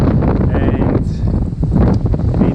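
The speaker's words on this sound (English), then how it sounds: "it's very windy." Strong wind blows at sea during a sailboat's ocean crossing, buffeting the microphone with gusty, rumbling bursts and uneven surges throughout, with the boat's surroundings faintly audible beneath.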